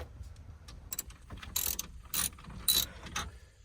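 A ratchet backs 7mm screws out of a Ford F-150 truck's dash radio, making short close bursts of rapid mechanical clicking with small gaps between strokes and no voices.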